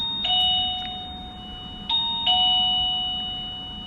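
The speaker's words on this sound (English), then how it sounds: "I just ring this, my doorbell." Classroom doorbell pressed by a teacher, ringing three electronic chimes in quick succession, clear and close in a quiet room.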